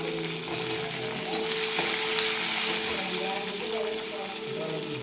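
Green chili, garlic cloves and ginger pieces fry in hot oil for a chicken gravy, giving a loud, steady sizzle with a soft bubbling hiss throughout.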